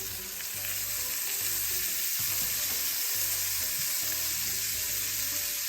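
Frozen cooked lamb sizzles loudly and steadily in a frying pan, a dense, constant hiss close up with faint scraping underneath and no talking.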